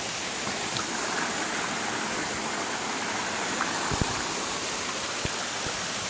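Water pours down the Laura Cascades in the Blue Mountains, a loud, constant broadband rush close by, steady throughout with a couple of faint knocks and no talking.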